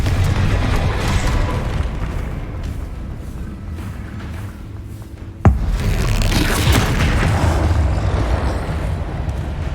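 A fire spell explodes in the Hogwarts Legacy video game with a sharp, sudden blast midway, over a steady rumbling background before and after.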